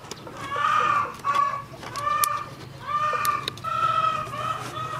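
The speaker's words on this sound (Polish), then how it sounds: "Co ta kura tak pieje" A hen gives a run of repeated clucks and short cackling calls in steady bursts, fairly close, with a faint background hum and no talk.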